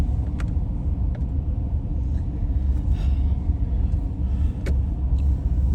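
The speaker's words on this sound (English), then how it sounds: "The thing about that Nissan that just drove by there" A Nissan car rolls past on a Florida neighborhood street at night, a steady low road rumble with faint tire hiss holding fairly even throughout, with no voices.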